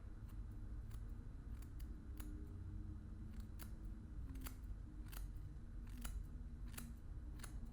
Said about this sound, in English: I'm just going to be cutting that.